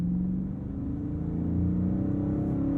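A naturally aspirated 2023 Chrysler 300C in auto mode with the transmission's street setting builds power smoothly under throttle. The engine gives a steady, close, continuous rumble and hum throughout, with no talking.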